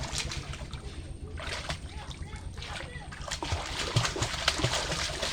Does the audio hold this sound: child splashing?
yes